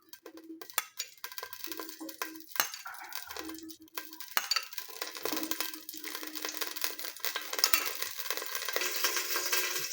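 Four tablespoons of oil heat in a pot over a low flame. Metal utensils clink and scrape against the pot, then a soft sizzling hiss gradually builds and grows steadier toward the end.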